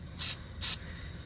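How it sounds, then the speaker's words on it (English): Two short, sharp hissing bursts of spray are aimed at a mini bike's oil hose, evenly spaced and close up, with no talk. "Give it a little spray."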